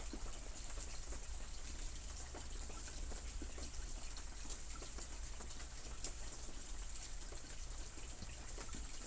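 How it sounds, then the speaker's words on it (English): Water from a small tabletop Zen fountain runs in a steady, continuous gushing trickle, close and even throughout with no pauses. "We have a little mini Zen water fountain here."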